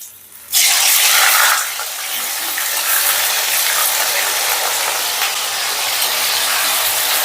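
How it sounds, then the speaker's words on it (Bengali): Cut paneer pieces hit hot salted oil with a sudden loud sizzle that settles into a strong, continuous frying hiss, close and without talk. "এবারে ভেজে নেব কেটে রাখা পনিরগুলো"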